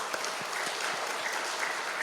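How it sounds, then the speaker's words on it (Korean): A church congregation claps together in a dense, steady burst of applause, filling the room evenly for a couple of seconds with no talking over it. "우리 하나님께 박수의 영광 돌리겠습니다."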